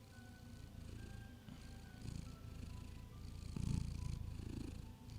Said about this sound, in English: That's him purring